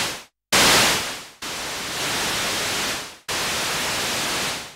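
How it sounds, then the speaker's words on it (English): Broadband hiss from the noise source of an ARP Odyssey synthesizer, mixed in via its white-topped mixer slider. The steady rushing noise comes in several sustained bursts split by short cutoffs, loud and close, with no voices. "the other slider, this white topped one here, because that relates to noise, means that you can mix in noise as a sound source"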